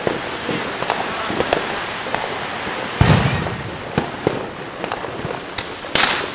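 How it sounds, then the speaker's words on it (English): Fireworks exploding along a residential street at New Year, with scattered sharp bangs and crackles at varying distances, one big close burst in the middle and more pops toward the end. "Making so many fireworks."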